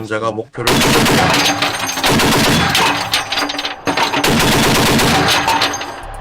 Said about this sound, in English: when everything is calculated, I will see a sign indicating that the fire is authorized, and then it starts shooting